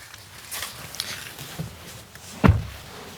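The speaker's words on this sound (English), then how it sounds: "The doors open nice and wide." The rear door of a Hyundai Bayon compact SUV opens: soft handle and latch clicks, then a single sharper close-miked thunk near the end, fairly quiet overall with light background rustle.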